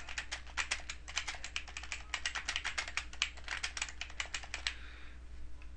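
Someone types an email on a computer keyboard, a quick steady patter of soft key clicks for about five seconds with a quiet low hum underneath, then the clicking stops.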